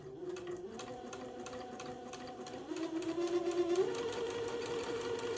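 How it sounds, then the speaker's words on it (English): A sewing machine stitches a straight eighth-inch seam along the side of a baby bubble garment, a rapid, regular mechanical whir that speeds up and grows louder midway, heard close and alone. "So I'm going to sew another 1/8 of an inch seam along the side of the body of this bubble."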